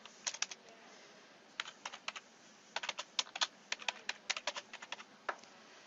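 Fast bursts of typing on a computer keyboard in an office, crisp key clicks in uneven clusters with short pauses between, close and alone with no talk.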